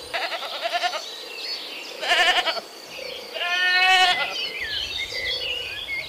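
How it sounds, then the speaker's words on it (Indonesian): Goat bleats in a cleaning game featuring assorted farm and zoo animals, a few short wavering cries repeated over several seconds, fairly loud and alone with no talking. "Ini kambing teman-teman."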